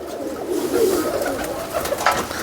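Pigeons coo softly and close by, a low, rolling throaty call repeated over a faint background hiss, with no voices.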